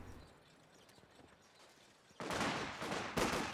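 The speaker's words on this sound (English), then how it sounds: "Grenadiers get a volley in. Sniper takes another shot." Gunfire in a competitive strategy game: scattered light shots, then a dense grenadier musket volley bursts in loudly, followed by a second heavy crack of fire, all close and without voices.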